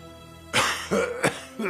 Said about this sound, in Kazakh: кім жөтелді?